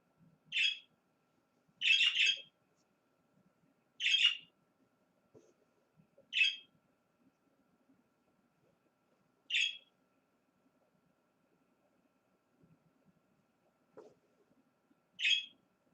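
A small bird chirps in short, bright bursts, about six calls spaced irregularly over near silence, fairly close.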